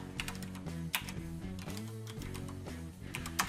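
Quick bursts of keystrokes clatter on a computer keyboard as state names are typed, with close, quiet, irregular clicks and brief pauses between words.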